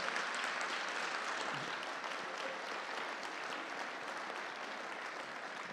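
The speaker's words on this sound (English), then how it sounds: "So, Jordan, you do deserve a round of applause." A round of applause in a Baptist church for a man who has just spoken in public, dense, continuous clapping that stays loud and even from start to finish and tapers only slightly at the end.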